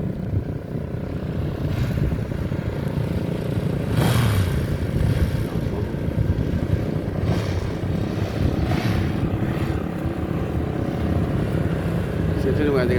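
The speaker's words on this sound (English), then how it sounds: "So all these are some of the bikes showing up." Motorcycles arriving for a bike show on Plymouth Hoe by the sea, a continuous low rumble of engines throughout with occasional swells as bikes pass, a voice speaking over it.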